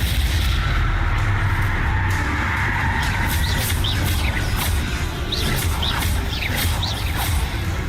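Spell explosions from the Bombarda curse in the Hogwarts Legacy video game, heard as dense, continuous booming blasts and crackles with bright whistling effects, loud throughout.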